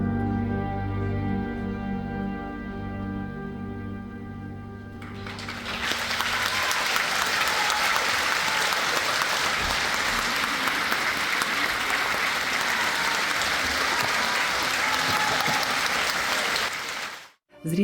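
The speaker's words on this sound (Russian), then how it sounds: "произведения Рахманинова, Баха, Моцарта, Бизе, Сен-Санса, Римского, Корсакова и других самарские зрители приняли овациями" A concert audience in Samara bursts into loud, sustained applause after a classical program including Rachmaninoff, Bach and Mozart. The final sustained notes of the music come first, then the ovation holds for over ten seconds and cuts off abruptly.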